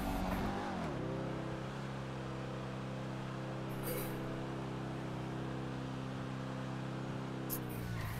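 A car engine idles steadily after a brief drop in revs, a loud, continuous drone with even harmonics held throughout, with no talk over it.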